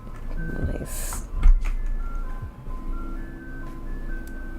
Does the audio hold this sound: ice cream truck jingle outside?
yes